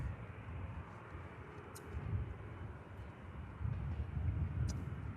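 A faint, distant engine rumble from an aircraft being towed to its stand by a tug at Manchester Airport, low and steady with slight swells, no voices.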